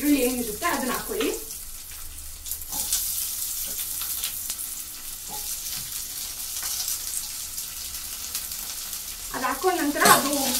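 Onions frying on low flame in a pan for tomato gojju, a constant soft sizzle with occasional stirring scrapes; a voice talks briefly at the start and end.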